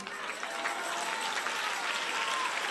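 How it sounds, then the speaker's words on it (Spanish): Church congregation clapping steadily throughout, a dense, continuous applause filling the space at close range without pause. "Usted tiene que aplaudir mejor al Señor"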